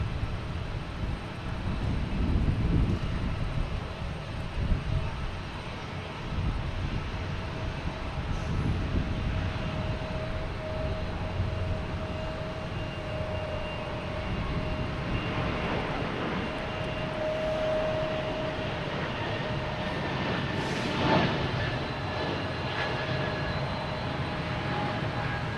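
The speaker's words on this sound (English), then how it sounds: "next taking off is a JetBlue heading to Fort Lauderdale in A220" A JetBlue Airbus A220 takes off from Boston Logan for Fort Lauderdale, a powerful jet roar with a thin whine running through it, loud and sustained throughout, with no talk over it.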